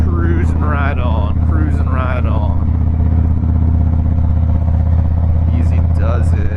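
A 2017 Harley-Davidson Softail Breakout cruising on the road, its engine a steady low rumble with constant wind noise, a rider talking over it.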